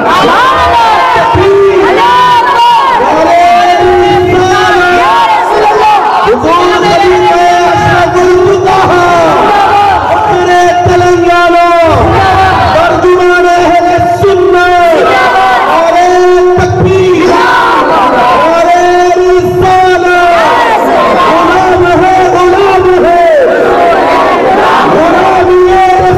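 Large crowd chanting slogans in loud, rhythmic unison bursts at a religious gathering, repeated call-and-response waves of voices filling the space continuously.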